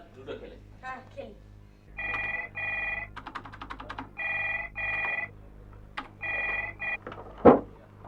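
Old-style telephone bell ringing in repeated bursts inside a home, loud and close, with brief children's voices and household sounds between rings.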